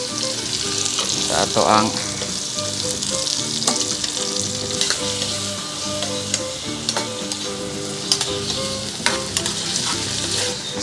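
Chopped tomatoes sizzle loudly in a hot pan for goat head kaldereta, with steady frying crackle and scraping stirs throughout, and a brief murmur of talk now and then.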